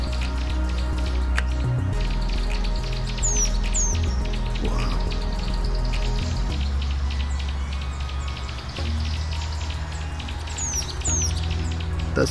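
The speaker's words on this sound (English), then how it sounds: "Now you can hear the golden breasted bunting calling." A golden-breasted bunting calls several times in short high chirps, heard close among other birds in an outdoor safari walk setting, with a steady background hum and a brief spoken exclamation.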